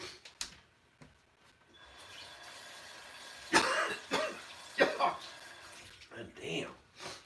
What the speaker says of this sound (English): Keep having these severe coughing fits.